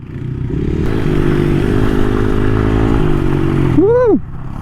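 A 2022 Yamaha R1 sport bike runs loud and steady with a rich engine drone, then a sharp rev rises and falls near the end before dropping away, out on a mountain ride.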